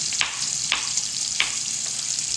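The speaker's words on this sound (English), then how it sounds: "while my bacon is cooking, we're getting there. It's starting to crisp up" Bacon frying in a pan, a steady bright sizzle and crackle with a few sharper pops, close and fairly quiet, no voices.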